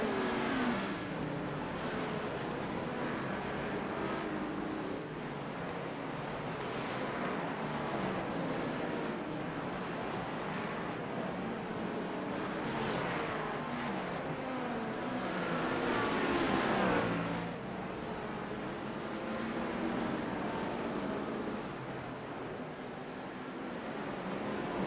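Race cars in a sim racing game at Oxford Plains, including an MX-5, drone and rev steadily as the pack circuits, engines swelling and fading as cars pass, with no talking.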